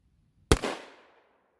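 A single loud rifle shot from a 6.5x284 Norma firing a 110 grain solid copper bullet at Level IV armor cracks sharply after a brief silence, then decays into a short outdoor echo.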